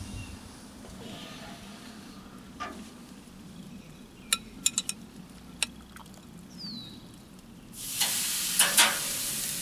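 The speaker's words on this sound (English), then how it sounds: "And you can hear it sizzle," Chicken sizzles steadily on a hot Dyna Glo smoker grate, with a few sharp clicks and taps of metal and a louder burst of sizzling near the end.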